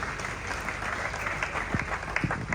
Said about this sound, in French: Merci encore d'applaudir pour la jeunesse entrepreneuriale